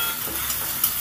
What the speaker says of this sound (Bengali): চিংড়ি মাছটা সুন্দর করে ভেজে নেব।